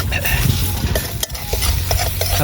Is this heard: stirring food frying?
yes